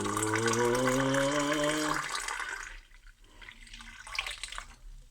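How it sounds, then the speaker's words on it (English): Water runs steadily from a tap into a pot for cooking lentils, a close, full rushing stream that rises in pitch as the pot fills, then cuts off leaving faint drips and handling sounds. "So what I've done is I filled one of them with water."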